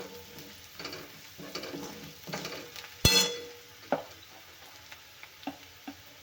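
Asafoetida and turmeric hitting hot oil for a tadka, a soft steady sizzle with a sharp crackling burst midway and a few light clinks of a spoon stirring the pan.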